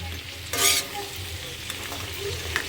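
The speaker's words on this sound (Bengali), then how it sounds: "সেদ্ধ করে নেওয়ার পরে ভালো করে ভেজে নিচ্ছি" Boiled crab pieces fry in hot oil in a pan, giving a steady close sizzle with a brief burst of loud spattering and stirring early on, then a continued low crackle.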